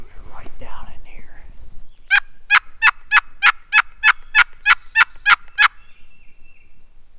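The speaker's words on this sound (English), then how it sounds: "we heard a gobble" Wild turkey gobbling in the mountains: after soft whispering at the start, a fast run of about a dozen sharp, evenly spaced rattling gobble notes rings out clearly against a quiet background.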